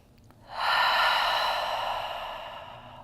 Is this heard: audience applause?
no